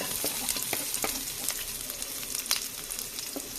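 Onion sautés in a hot pan, giving a close, steady sizzle with light crackles and stirring scrapes and no talking.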